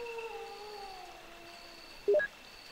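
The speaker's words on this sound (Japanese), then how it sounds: "でもこの先には犬がいっぱいいる。" Dogs in the Resident Evil video game howl in thin, drawn-out wails that drift faintly in the background, with a short, louder yelping whine breaking in near the end.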